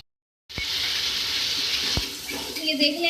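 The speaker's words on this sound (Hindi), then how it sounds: "इसमें मैं आधा कप पानी ऐड कर रही हूँ" Half a cup of water poured into a cooking pot with tomatoes for a beef chana dal curry, a steady close splash and hiss that begins abruptly and lasts about two and a half seconds, with a couple of clinks.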